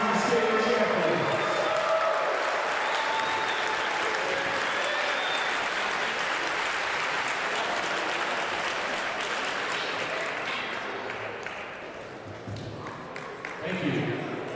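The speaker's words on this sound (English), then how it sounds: "let's have another huge round of applause for our 2025 MHSAA Women's Cross Country State Champions" A large crowd in a school gym applauds the high school women's cross country state champions, sustained loud clapping with some cheering that slowly tapers off near the end before a brief swell.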